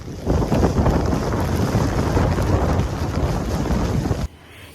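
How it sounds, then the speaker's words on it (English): Blizzard wind roaring through a snowstorm in California's Sierra Nevada, a loud, steady broadband rush with gusty buffeting that cuts off abruptly near the end, leaving quieter background. "A California snowstorm is bringing dangerous blizzard conditions to parts of the state."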